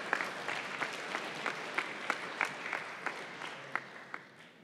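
A modest audience claps at a college programming competition's final tournament awards, a steady patter of hand claps with faint crowd murmur, tapering off toward the end.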